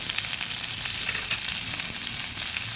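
Ridge gourd and potatoes fry in a pan with a dense, continuous sizzle and crackle, loud and close, with no voices.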